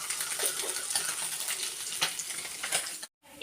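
Fish fries in a pan with a dense, steady hiss of sizzling oil and scattered pops and crackles, close and continuous, cutting off abruptly near the end.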